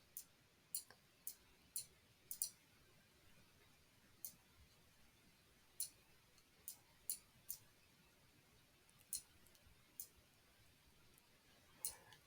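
Sparse keyboard typing, a dozen or so isolated clicks spread unevenly over a quiet background, each a short sharp tap rather than a steady run of keystrokes.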